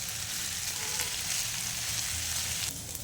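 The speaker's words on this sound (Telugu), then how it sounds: "ఈ దొండకాయల్ని మనము ఒక 3 to 4 మినిట్స్ ఆయిల్లో బాగా ఫ్రై" Ivy gourd (tindora) pieces fry in hot oil in a pan, a soft, steady sizzle heard close and alone for a few seconds, easing slightly near the end.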